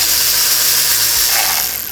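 A hand ratchet clicks rapidly and loudly up close while backing out T30 bolts from the water pump belt cover on a 2013 VW Beetle, a continuous pawl chatter with no speech.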